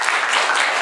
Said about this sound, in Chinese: 这个教授鼓掌一下